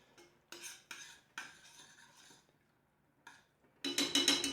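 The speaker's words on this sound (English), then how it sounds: "And I just keep mixing, stirring." A spoon stirs chicken pan sauce in short scraping bursts with clinks against the pan, separated by brief pauses, then a louder clattering run of stirring at the end.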